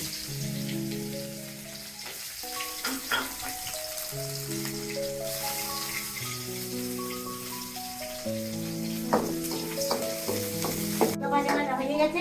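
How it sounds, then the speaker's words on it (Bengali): Onion, ginger and green chili frying in mustard oil in a kadai, a steady sizzle with stirring scrapes running throughout, fairly close, with a soft melodic tone underneath and no talking. "কড়াইতে তেল দিয়ে দিচ্ছি সর্ষের তেল দিয়ে দিচ্ছি আমি পেঁয়াজ এবং আদা লঙ্কা দিয়ে দিচ্ছি"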